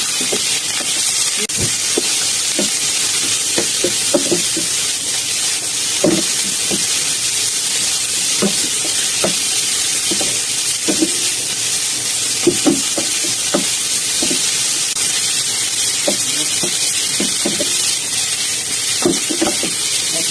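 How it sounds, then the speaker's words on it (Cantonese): Mushrooms stir-fry in a wok with ginger and scallion over high heat, a constant loud sizzle and hiss punctuated by repeated clacks of a spatula scraping and tossing. "我炒香下佢嚇"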